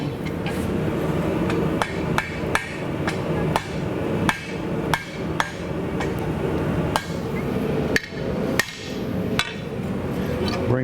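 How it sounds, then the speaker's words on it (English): A hammer strikes a knife guard as it is refined, with sharp metallic blows at a steady, slightly uneven pace over a constant background hum. "I think I can do it with this hammer."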